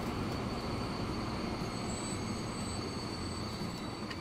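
Departing trains rolling steadily through a rail yard in the Transport Fever 2 video game, a continuous rumble of wheels on track with a thin high squeal running through it, with no talk over it.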